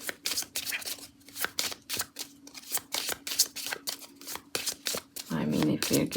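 Tarot cards riffled and shuffled in quick, crisp bursts of papery flicks, close to the microphone, with a steady low hum underneath and a louder rustling handful of cards near the end.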